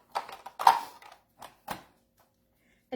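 A Rapid Prep mandolin slicer's setting is changed by hand, giving a handful of sharp plastic clicks and knocks in a short irregular burst, close and fairly loud against silence.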